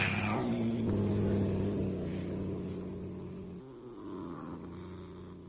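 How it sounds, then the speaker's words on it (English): A sleek, fat house cat purrs in a low, continuous rumble, steady and close throughout, softening slightly toward the end with faint background noise. "the gentle, oh so comforting purr of her sleek,"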